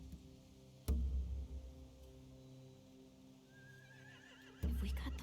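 Horses whinny in The Walking Dead video game, a single drawn-out neigh rising over a low ambient drone, framed by two heavy thuds at the start and end.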